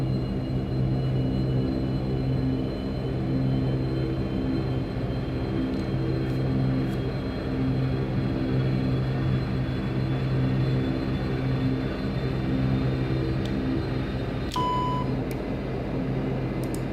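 A Majestic Q400 turboprop engine runs in a flight simulator game, a steady, even drone with a layered tonal hum and a thin high whine, broken only by a few short electronic beeps near the end.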